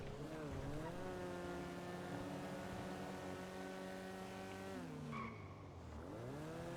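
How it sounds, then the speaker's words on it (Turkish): A car engine with a faulty exhaust in the video game GTA 5 drones steadily, its pitch rising and falling as the car speeds up and slows, loud and continuous with no talking. "bu arabanın egzozunda problem mi var abi ya?"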